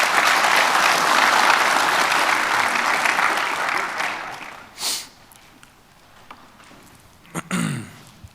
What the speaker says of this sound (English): So let's give those top three a round of applause